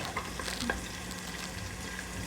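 Onions fry and sizzle in a pan with soft stirring scrapes, a steady close crackle at low level with no talk.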